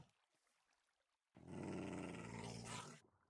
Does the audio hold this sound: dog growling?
yes